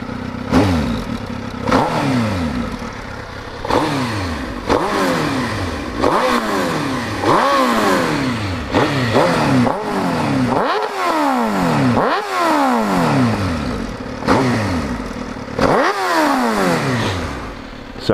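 A 2005 Suzuki GSX-R 1000 engine revs repeatedly, each throttle blip rising and falling in pitch over a steady loud idle, close by and with no talking.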